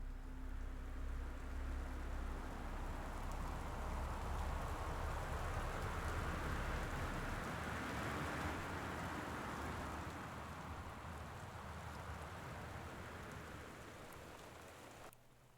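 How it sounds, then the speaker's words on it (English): Rainfall in the video game Gone Home, a dense, full hiss of drops pattering on surfaces, loud and constant, thinning slightly toward the end before cutting off. "Is that rain really loud for everybody else, or is it just me?"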